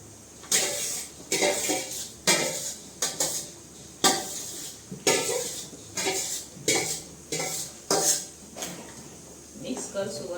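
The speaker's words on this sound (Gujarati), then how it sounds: "હવે આપણે ભાજી નાખી દઈશું એમાં, જીરા મેશ કરીને નાખી દઈશું." Green pav bhaji vegetables and cumin are mashed in a metal pan, giving rhythmic clanking strikes roughly once a second, close and distinct, with a voice talking over them.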